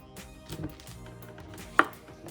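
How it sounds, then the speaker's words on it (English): A knife chopping the ends off squash on a board, a few soft taps and one sharp clear chop near the end in a quiet room. "Now we're going to go ahead and make the squash. So, like always, chop off the ends."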